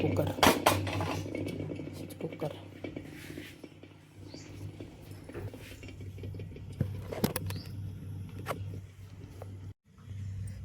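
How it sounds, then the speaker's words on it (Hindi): A pressure cooker is set on a stove, metal clanking and scraping against the stovetop with several sharp knocks, amid quiet kitchen clatter and a low background hum. "हम रखते हैं कुकर।"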